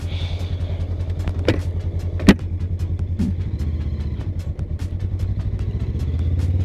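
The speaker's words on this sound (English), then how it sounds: "Beautiful sounding bike." A motorcycle engine in Arizona rumbles steadily and close, a low even drone with a few faint clicks and knocks on top.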